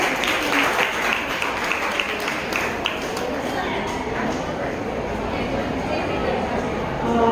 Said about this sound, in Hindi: तो हम जोरदार तालियों से उनका स्वागत करेंगे।